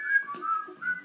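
A person whistles a sustained, wavering melody, clear and fairly close, with no talking over it.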